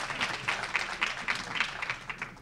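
Applause from the audience at a board meeting, soft and somewhat distant, with individual claps pulsing through a continuous rustle that holds steady across the moment.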